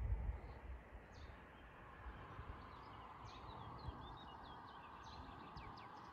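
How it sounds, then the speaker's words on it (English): Scattered high bird chirps ring out faintly over a steady, rumbling road and engine noise, heard from inside a moving car with the windows up. "You can hear tons of birds even with the windows up while you're driving."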